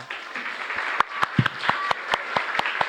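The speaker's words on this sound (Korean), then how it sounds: "우리 일어나실 때 박수로 환영해 주시기 바랍니다" A church congregation at a traditional worship service claps to welcome visiting families, a loose ragged applause of sharp separate claps that stays moderately loud and fairly close throughout.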